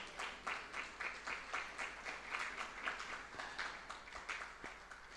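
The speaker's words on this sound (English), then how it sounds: "big round of applause." A conference audience at an insurance brokers' gathering in Mbarara, Uganda, claps for sponsors in a steady, rhythmic pattern of synchronized beats, fairly distant and continuous.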